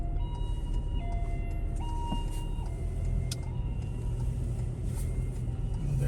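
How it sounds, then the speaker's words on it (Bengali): Ambulance siren passing along a street in Finland, its wailing two-tone pitch steps rising and falling over a steady rumble of passing road traffic, moderately close. "একটা অ্যাম্বুলেন্স গেল"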